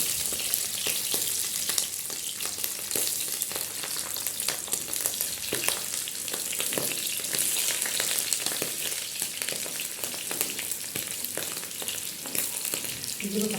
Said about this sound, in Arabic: معانا الزيت سخن اهو، هنزل بالسجق.